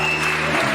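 A church congregation applauding together in a sustained, dense wash of clapping that fills the room, loud and continuous.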